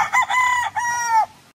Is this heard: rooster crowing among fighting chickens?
yes